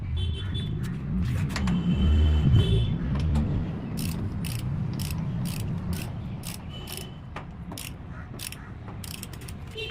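A torque wrench is tightening the rear axle of a BMW F850 GS motorcycle to 100 Nm. A low rumble is followed by a rapid series of sharp ratcheting clicks, close and fairly loud, with no talk.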